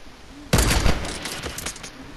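Rapid burst of gunfire from a shooting video game, loud and close, a dense rattling volley that holds steady for well over a second and then tapers into scattered shots.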